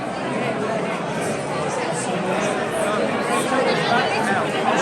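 Dense crowd chatter at a statue unveiling, a steady close babble of many overlapping voices filling the space without letup.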